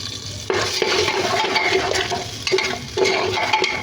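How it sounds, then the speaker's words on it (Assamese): Tomato and cashew paste fries in a pan for a paneer biryani, with a continuous sizzle and intermittent stirring scrapes, close and steady. "সেইটো অলপমান মই ফ্ৰাই কৰি ল'ম বিলাহীখিনি, যাতে কেঁচা গোন্ধটো মৰি যায়"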